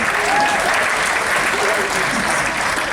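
Crowd applause at a comedy show on a Royal Caribbean cruise ship fills the room steadily for a few seconds, dense and even, with voices mixed in underneath.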